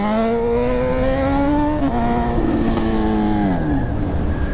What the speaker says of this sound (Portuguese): Vou tentar acelerar ela aí e